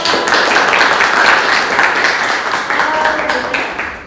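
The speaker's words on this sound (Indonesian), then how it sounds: "Oke, beri tepuk tangan." A classroom group claps together in a dense, steady round of applause that holds for a few seconds before tapering off.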